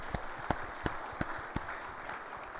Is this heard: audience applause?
yes